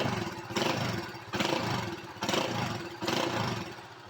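A Honda Win 100 motorcycle engine runs close by with a rough, clattering mechanical note, rising in four regular surges as the throttle is blipped and eased off.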